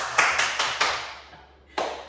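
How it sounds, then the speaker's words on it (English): Several sharp claps in quick succession, then a pause and one more clap, fairly close with a short reverberant tail. "Clap, clap, clap."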